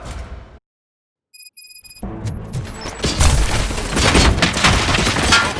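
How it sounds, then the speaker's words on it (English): Gunfire in the video game Robocop: Rogue City, a brief silence and a few electronic beeps giving way to dense, booming bursts of shots that build into a loud, continuous barrage. "Gunshots? What's going on?"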